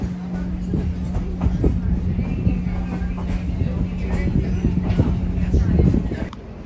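A diesel train rumbles along steadily with a constant low engine drone, rattling wheels and people talking over it throughout, riding the Great Smoky Mountain Railroad at Bryson City, North Carolina.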